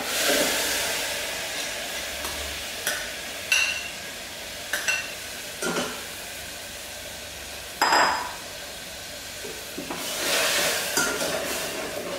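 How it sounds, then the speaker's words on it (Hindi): Puree of four tomatoes added to a hot cooking pan for rajma: a steady sizzle and frying hiss throughout, broken by several close scraping and clinking stirs of a spoon against the pan. "हमने चार टमाटर की प्यूरी बना के रखी है अब हम इसमें डालेंगे टमाटर"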